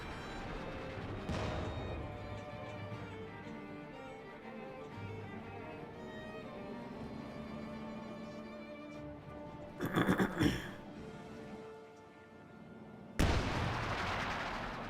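Artillery fire from a pack howitzer in Company of Heroes 2, a couple of booming blasts among other battle noise, with sharp loud impacts standing out near the end.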